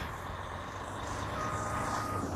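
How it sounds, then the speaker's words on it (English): Trucks pass along a road in a low, continuous rumble of engines and tires. The traffic noise is moderately loud and fairly steady, with no voices over it. "these trucks are very disrespectful."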